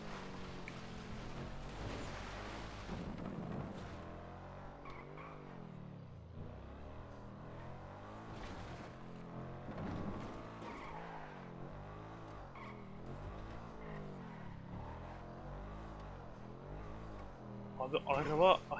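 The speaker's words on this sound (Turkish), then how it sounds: "Bu araba bayağı bir hızlı ya." Fast car in GTA 5 accelerating and skidding, with a steady engine drone, shifting revs and tire squeals; a voice talks over it intermittently.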